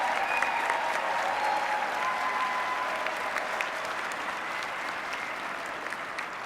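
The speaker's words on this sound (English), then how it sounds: "Give them a big round of applause." Audience applause for the judges at the 2015 10,000 Lakes Regional opening ceremonies, a steady wash of many hands clapping throughout, slowly easing off toward the end.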